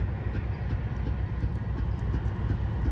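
A freight train of cement hoppers and tank cars passes at Sullivan's Curve as a steady, dense rumble with faint wheel clatter, close and continuous.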